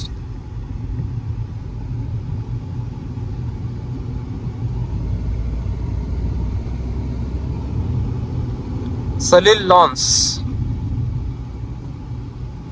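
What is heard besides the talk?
traffic on Pune–Solapur highway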